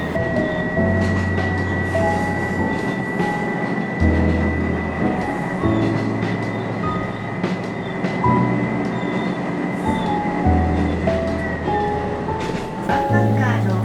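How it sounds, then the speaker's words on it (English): A train on the Watarase Keikoku Railway line near Tokyo rolls along the rails with a steady rumble and rhythmic wheel clacks, a faint high squeal running underneath throughout. "So the train arrived at Hanawa Station after a few minutes"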